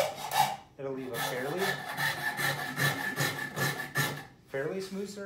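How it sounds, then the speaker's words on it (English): A wood rasp files wood in rhythmic back-and-forth strokes, a coarse scraping rasp repeating steadily and close by. "It is a rasp after all, so it definitely shouldn't be the last thing that touches the wood."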